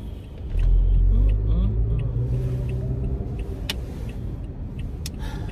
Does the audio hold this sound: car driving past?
yes